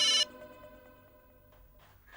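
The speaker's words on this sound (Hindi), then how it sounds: "पापा का फोन है, 1 मिनट में आया।" A brief electronic phone ring bursts at the start, then fades into a lingering tonal decay with faint background noise.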